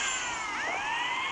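An ambulance siren wails with rising and falling sweeping tones, continuous and moderately loud, mixed with steady traffic noise and no talking.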